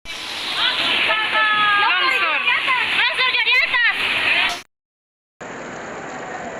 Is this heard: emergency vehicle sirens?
no